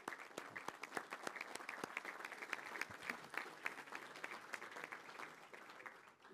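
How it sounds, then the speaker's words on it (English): Scattered applause for the Army at a congressional committee markup, individual claps distinct and irregular, steady throughout and fading slightly at the end. "I say we give the Army a round of applause"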